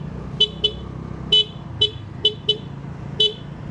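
A motor scooter horn honks in short, sharp toots, about seven separate beeps in quick uneven succession over a low road rumble on a steep uphill road.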